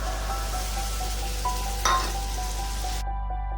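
Tomatoes hitting a hot pan for Bengali egg curry, a soft steady sizzle with a brief louder burst of frying and a light clink of a utensil.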